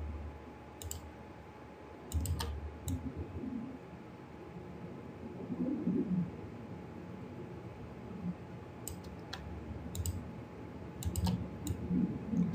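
A computer mouse clicks during digital paint work removing a tattoo in After Effects with Silhouette Paint. Sparse, sharp single and double clicks come at irregular intervals over a low, steady room hum.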